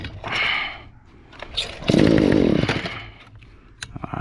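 A gas-powered Stihl string trimmer, recently fitted with a replacement coil and choked, pulled over with a couple of short cranking bursts before the small two-stroke engine catches and runs loudly for about a second, then drops back to a rough idle.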